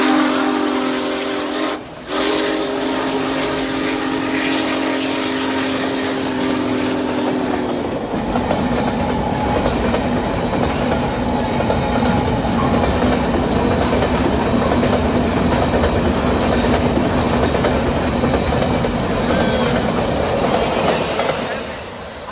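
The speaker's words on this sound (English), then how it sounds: "This is Buster Posey at the controls, baby. Get on the train." Train whistle with steady rumbling train noise played in a postgame baseball setting; a harmonic whistle tone sounds for about eight seconds, then a continuous loud rolling rumble and hiss carry on to the end.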